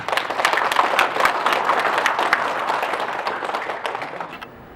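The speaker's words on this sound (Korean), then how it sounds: "우리 정의필 교수님 박수로 환영해 주시기 바랍니다." An audience breaks into sustained applause to welcome a speaker at a forum marking the 100th anniversary of the March 1st Movement, many hands clapping steadily for several seconds before tapering off.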